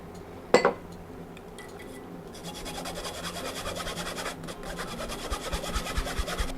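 A spoon scrapes and stirs custard filling in a pot on the stove, a steady soft rasping that begins after a single sharp clink and continues faintly and close.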